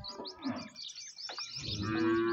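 A Friesian-Cholistani cross cow lets out a low, close moo toward the end, with scattered bird chirps over a farmyard background.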